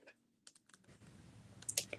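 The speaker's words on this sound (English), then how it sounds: "Now what is she typing?" Quiet tapping on a computer keyboard, irregular keystrokes with a faint background murmur.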